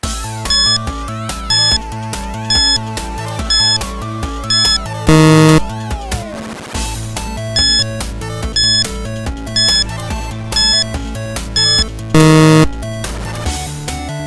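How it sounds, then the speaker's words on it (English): A game-show countdown timer plays a loud, repeating electronic loop of beeps and ticking tones with a steady pulse, and brighter chime bursts come twice at regular intervals. "Your timer starts now."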